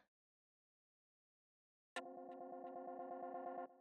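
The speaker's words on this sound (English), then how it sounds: "It will make the vocal sound like it's stopping in slow motion." A buzzy, distorted vocal with a tape stop effect starts abruptly and holds for under two seconds before cutting off, heavily processed and warbling.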